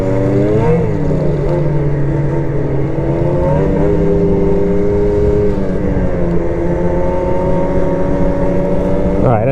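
A 2027 XRS 600RR motorcycle engine runs loud and close at a smooth, steady cruising pace, its even drone holding with slight rises in pitch throughout.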